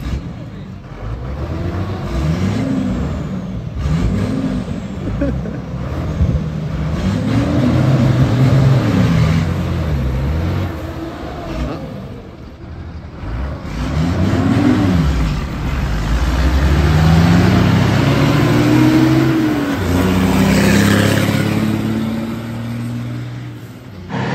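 Tuned American trucks rev and roar at a truck race in Maracaibo, Venezuela, engines rising and falling in repeated swells over a loud crowd-like background, with a long climbing pass near the end.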